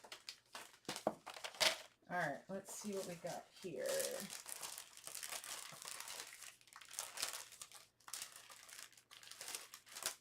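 Paper scraps, including small Christmas-paper pieces, rustle and crinkle in close, busy bursts while a person rummages through them, with a voice talking over much of the handling.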